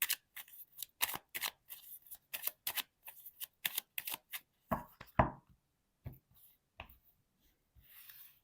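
Tarot cards shuffled and laid down in quick dry bursts of slaps and riffles, close and clear, thinning to a few soft touches near the end, with no voices.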